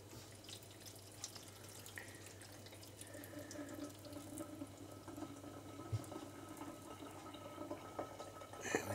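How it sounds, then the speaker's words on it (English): Milky water poured off chopped luncheon meat into a kitchen sink, a steady close trickle and splash with a few drips, no talking. "I'm just going to pour it off without losing half my meat down the sink if I can."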